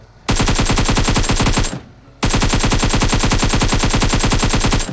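Two long, loud bursts of sustained automatic rifle fire in PUBG Mobile, a dense rapid rattle of shots with a brief pause between sprays and no talking.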